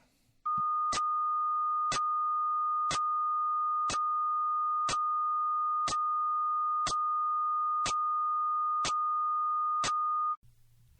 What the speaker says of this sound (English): Now, like before, the same sound, but with static inserted into the gaps.